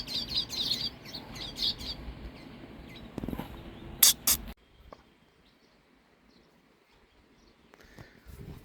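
A sparrow chirps at its nest in a strawberry garden in Nuwara Eliya, giving a few quick, bright chirps near the start. Clattering and handling noise follow, then near silence.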